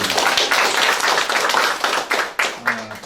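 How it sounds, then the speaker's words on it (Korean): A crowd claps steadily indoors at a district council member's report meeting in Incheon Seo-gu, dense and fairly loud applause lasting a few seconds, with a voice faintly under it. "큰 박수 부탁드립니다."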